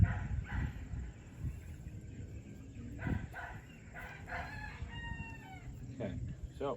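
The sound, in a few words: dog yapping in the background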